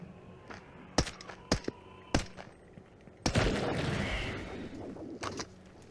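Pistol shots in the video game Into the Radius 2, several sharp single cracks spaced unevenly, followed by a louder burst that trails into a long noisy wash before one more faint shot.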